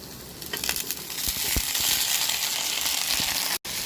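Vegetables are tossed into browned onions frying in a pan. A loud, dense sizzle swells and crackles, with a few stirring knocks near the start.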